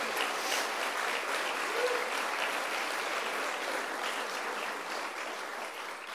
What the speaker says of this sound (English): let's give NYU a round of applause.